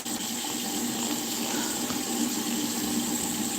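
Water running steadily from a tap, a close, even hiss and splash that continues without pause and without talk.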